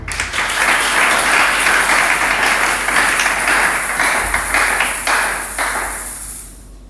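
Church congregation applauding during a service, a dense, loud wash of clapping that holds steady for several seconds and then fades out.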